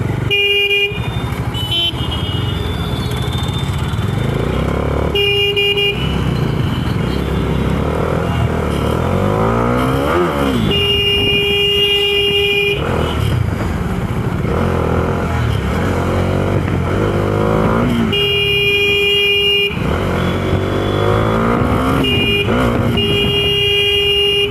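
A Dominar 400 motorcycle rides through night city traffic in Varanasi, with loud continuous engine and road noise, repeated car and truck horns honking nearby, and engine pitch rising and falling throughout.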